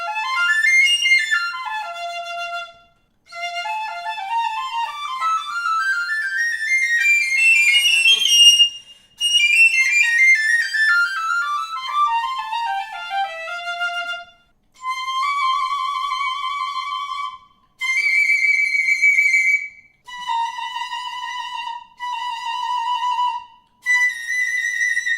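Trevor James 5X piccolo played solo, bright high notes running in quick rising and falling scales, then sustained tones in short phrases with brief pauses, close and clear with no talking.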